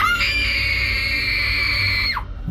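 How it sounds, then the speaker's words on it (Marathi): Two girls scream loudly in fear for about two seconds as a horror story effect, a sustained shrill cry that cuts off abruptly near the end. "जोरजोरात किंचाळू लागल्या"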